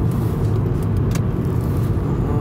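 A ten-year-old Honda Accord with a 190 hp engine cruising at high speed, around 120 km/h, heard from inside the cabin as a steady, loud rumble of engine and road noise with no talking.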